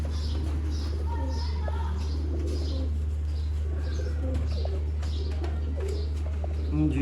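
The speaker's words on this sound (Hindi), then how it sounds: "काले मुंह वाले शेखों वाले कबूतर" Black-faced Sheikh pigeons coo softly in a loft, repeated low murmuring calls over a constant electrical hum, with someone speaking quietly in the background.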